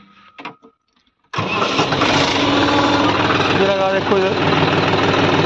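A John Deere 5210 tractor engine with a rotavator in first gear A1 near 1000 RPM turns over and then runs as a loud, steady drone close by, with a voice speaking briefly just before it starts.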